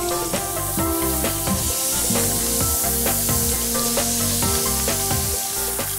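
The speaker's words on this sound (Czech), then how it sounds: "Krkovici opečeme z obou stran, pěkně na barvu." Pork neck sears in a frying pan, a loud continuous sizzle and crackle with clinks and stirring sounds throughout, close up and without talk.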